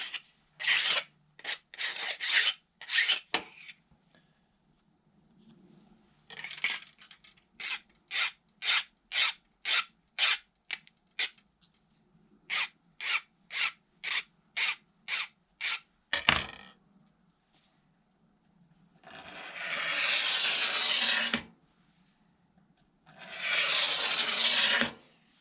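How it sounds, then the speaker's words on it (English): A hand file scrapes burrs off a carbon fiber landing gear mold in crisp, rhythmic rasping strokes, several quick runs of short passes, then two long, heavy grinding scrapes up close. "if you get little burrs on it or whatever, you know, just take a file."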